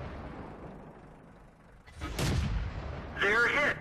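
Artillery firing in World of Tanks, a heavy boom partway through followed by a second sharp burst with metallic ringing, loud and close after a quiet rumbling start.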